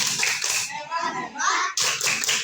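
Children clap together in a short burst, then pause and clap again, with a voice heard between the bursts.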